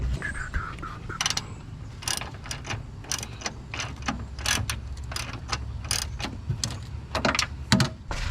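Bolts are tightened on a Ford Bronco hood strut mount with a hand ratchet, giving quick bursts of clicking strokes close up with short pauses between them and no talking.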